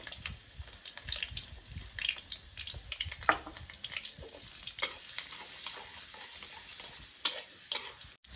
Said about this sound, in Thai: ผัดกระเทียมให้สุกเหลือง